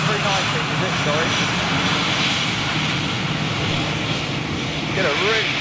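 Airbus A319 jet airliner with CFM56 engines at London Gatwick, a steady, loud, close engine roar with a broad rushing hiss that holds throughout, with people talking over it.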